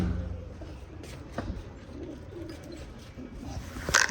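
Soft pigeon coos rise and fall over a low background murmur, with a brief higher chirp near the end.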